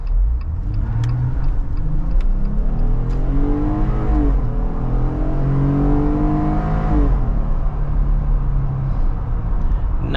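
A 2022 Jeep Wrangler with a naturally aspirated 3.6-litre V6 and 8-speed automatic pulls away from a dead stop, its engine note rising steadily and loud through one continuous climb, with no talking.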